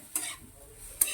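Spices dry-frying in a pan, with two brief scraping stirs about a second apart over a faint background sizzle.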